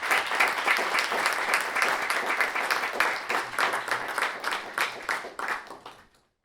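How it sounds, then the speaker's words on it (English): An audience at a moot court showcase claps for the student competitors, a dense, even round of applause that holds steady for several seconds, thins out, and then stops. "Let's have a round of applause for all of the students"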